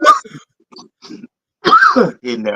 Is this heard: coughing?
yes